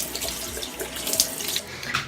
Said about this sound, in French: je viens donc le rincer à l'eau claire